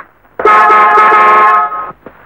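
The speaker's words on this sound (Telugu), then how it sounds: "ఊరంతా మారుమోపోయేలా హార్న్ కొడతారు?" A car horn blares loudly in one long continuous blast of about a second and a half, steady and close, then cuts off into quiet.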